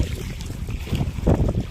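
A boat moves along a river beside the Sundarbans mangrove forest during a spring tide at Pirkhali, with a steady rumble of motion and water alongside, wind buffeting the microphone, and a louder surge near the end; no one speaks.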